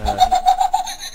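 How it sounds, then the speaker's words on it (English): A piezo speaker sends out a rapid run of about seven short, shrill pulsed chirps at a steady rhythm. It sounds fairly loud and close, with nothing else behind it. "piezo speaker working pretty good."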